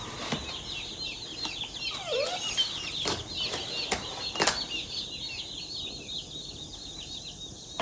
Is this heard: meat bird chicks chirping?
yes